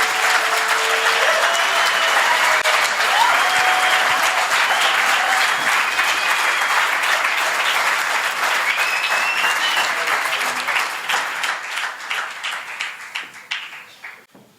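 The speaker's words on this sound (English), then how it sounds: "You may applaud the graduates." A graduation ceremony audience claps loudly and steadily for the graduates, a dense wash of applause that thins into scattered claps and fades near the end.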